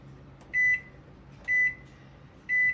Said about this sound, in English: I'll set my kitchen timer.